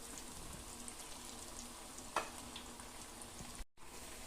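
Parippu vada lentil fritters frying in oil, a quiet, even sizzle with a soft clink partway through and a brief dropout near the end.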